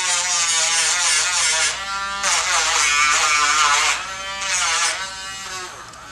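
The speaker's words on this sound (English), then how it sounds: "So now we can go back to grinding." A Dremel rotary tool grinding a dog's nails: a loud, high-pitched motorized whine in three bursts, each easing off briefly before starting again, with no talking.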